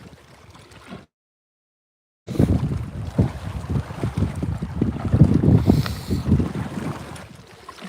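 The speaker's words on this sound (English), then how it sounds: "It's all this wind" Strong wind at a snowy reservoir during a trout fishing outing, rushing and buffeting loudly against the microphone after a brief quiet gap at the start.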